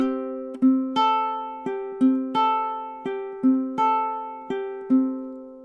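Fingerstyle ukulele melody from Wicked, opening with a slide and filler notes, plucked single notes ringing clearly in a steady, moderate rhythm, each note decaying before the next, close and alone without talk.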